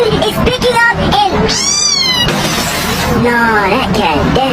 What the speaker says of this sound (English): Nah, that cat dead.